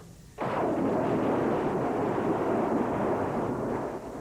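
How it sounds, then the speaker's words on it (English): Heavy artillery fire from mobile BM-21 rocket launchers in 1989 wartime Ethiopia, a sudden loud roar swelling into a sustained rumbling barrage that lasts several seconds before easing off. "from the rear, the TPLF called in heavy artillery fire from mobile BM-21s"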